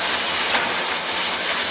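Loud, steady hiss of escaping steam from a steam locomotive at a San Bernardino railroad days event, a continuous close-up rush with no voices.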